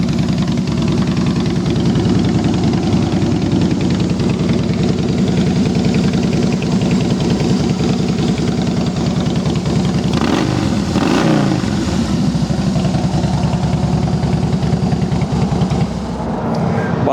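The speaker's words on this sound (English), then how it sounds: "Bike sounds real good." Harley-Davidson Heritage Softail Classic FLSTC motorcycle engine running steadily, a loud, close, continuous rumbling idle with a brief rise around the middle, heard alone without talk.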